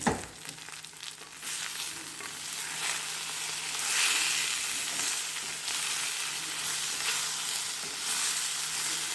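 Brinjal and tomato roast in a pan, giving a steady, fairly loud sizzle and crackle that carries through the whole stretch with slight swells, close by and with no voices over it.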